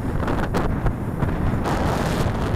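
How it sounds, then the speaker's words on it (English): Strong gusting wind buffets the microphone steadily throughout during outdoor flight of an MJX Bugs 3 Pro brushless GPS quadcopter drone, a loud continuous rumbling roar with no talk. "That wind is really picking up"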